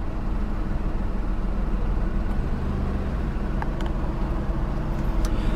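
A 2018 Smart ForTwo 453 Series with its 1.0-litre engine idling just after start-up, a steady low rumble with a faint whirr on top, continuous and fairly close, with no voices.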